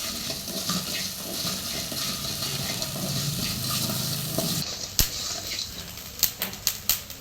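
Spices for a homemade kuzhambu masala dry roast in a pan, giving a steady close scrape and stir with a light sizzle, followed by a few sharp spoon knocks against the pan near the end.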